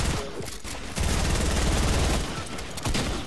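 Dense automatic gunfire fills a Fortnite match, loud rapid shots in sustained bursts with brief pauses, heavy and close throughout.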